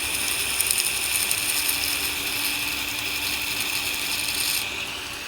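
A knife blade being hollow ground on a belt grinder running at about 30% speed, a steady loud hissing grind with a high whine that drops off slightly near the end, no talk.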